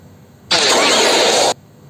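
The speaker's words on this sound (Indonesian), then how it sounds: "untuk asapnya kita paskan ini suara asap yang kecil ini ya" A smoke-puff effect for a Naruto shadow-clone edit bursts as one loud, airy hiss lasting about a second, starting and stopping abruptly over a quiet background.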